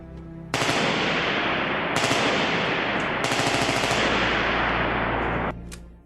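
An M14 rifle fires fully automatic in three sustained bursts, loud and close, the shots blurring into a continuous roar with brief breaks between bursts.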